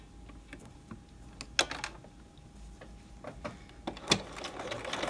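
A sewing machine runs a standard 2.5 stitch, giving faint, irregular mechanical ticks and clacks against a quiet room hum.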